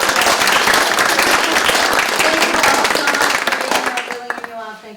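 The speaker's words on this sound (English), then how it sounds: "Can we give our panel a round of applause?" An audience applauds a panel at a prospective parent open house, with close, loud, dense clapping that tapers off at the end as voices begin to speak.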